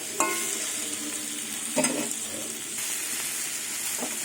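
Loud continuous sizzling as banana stem, pumpkin and garlic fry in oil, with two clear clatters of a spatula stirring the pan and softer scraping later.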